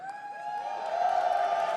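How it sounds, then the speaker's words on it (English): Crowd at an esports grand finals watch party for an Apex Legends Global Series event, cheering and whooping in a short, sustained swell that builds slightly louder toward the end. "I'm hanging out in this amazing crowd who's been killing it with their cheering"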